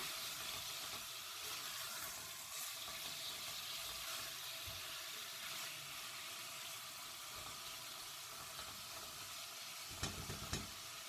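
Onion and meat sautéing in a pot for a Turkish green bean stew, giving a steady close sizzle with occasional stirring scrapes and a brief louder clatter near the end, no talk.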